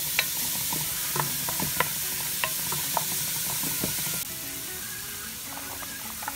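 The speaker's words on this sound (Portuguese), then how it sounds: "Vamos deixar refogar até ficar transparente a cebola." Butter, garlic and onion sauté in a pan with a steady close sizzle, while a spoon stirs and taps the pan in a loose rhythm of sharp clicks, with no voices.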